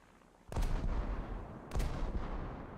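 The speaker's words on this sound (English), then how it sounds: "It's the slower 76s you see in the frigates, isn't it?" Two heavy booms from 76 mm naval guns on frigates in a naval combat game, each a loud deep blast with a long rumbling tail, spaced just over a second apart.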